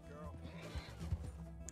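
A horse whinnies in the video game Red Dead Redemption 2, a short, fairly quiet neigh heard under people talking.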